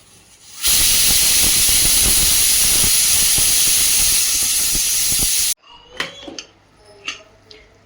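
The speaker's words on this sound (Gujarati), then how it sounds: "4 થી 5 વિસલ આવે ત્યાં સુધી થવા દઈશું।" A pressure cooker steaming seasoned rice lets out one loud, continuous hissing whistle for about five seconds, then cuts off abruptly, leaving faint kitchen clatter and knocks.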